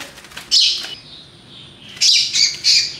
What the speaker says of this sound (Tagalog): This bird is the one who is staying with us